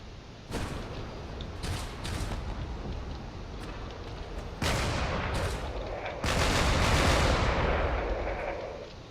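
Gunfire from the Drone Wars video game strikes a battleship in bursts of sharp shots and rattling volleys, loud and close, thickening into dense sustained barrages toward the end.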